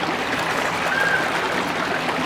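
Water flowing under a bridge at Araluen Botanic Park, a steady, moderately loud rushing trickle heard alone without speech.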